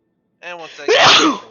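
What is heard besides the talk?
sneeze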